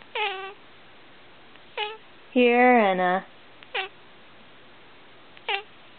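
A pet cat meowing along while its owners sing Old MacDonald, four short clear meows and one longer drawn-out wail, close and loud between quiet gaps.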